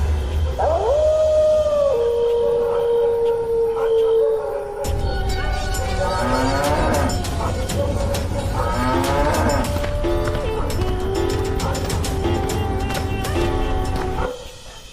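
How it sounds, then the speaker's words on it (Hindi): A cartoon cow lets out long, drawn-out moos of pain, loud and wavering, followed by busy background music and effects that carry on to the end. "घर पहुंचकर गौरी दर्द में फिर से रंभाते हुए भगवान को याद करती है।"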